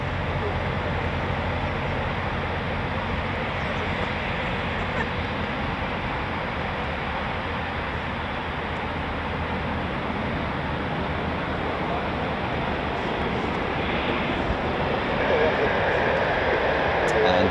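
Two Eurofighter Typhoon FGR4 jets taxiing for departure at an RAF station, a steady loud broadband engine roar and whine that holds throughout and swells slightly near the end.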